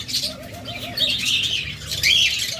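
Pet lovebirds and budgerigars chirp close by in quick, high twittering bursts over a soft, low warble, with brief pauses between the calls.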